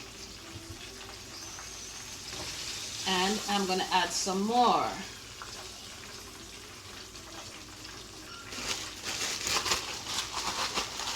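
Oil sizzles and crackles as chicken backs fry, a steady hiss running underneath a person talking.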